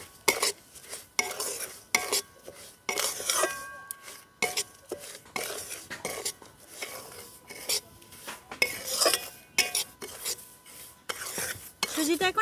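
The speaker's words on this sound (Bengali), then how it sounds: "দিয়ে হালকা করে আবার ভেজে নেবো আমি সুজিটাকে" Semolina being lightly roasted in a pan, with a spoon scraping and stirring in repeated bursts of clinks and rasps against the metal, close and steady with short pauses.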